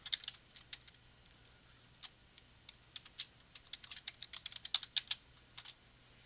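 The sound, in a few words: typing a folder name on a computer keyboard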